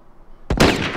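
One loud gunshot goes off in The Last of Us, bursting out of near silence and ringing with a broad, booming tail.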